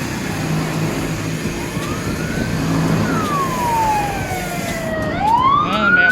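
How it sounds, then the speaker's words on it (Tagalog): A wailing ambulance siren sweeps up and down in pitch, growing louder as it approaches over a rumble of passing traffic. "ambulansya na naman"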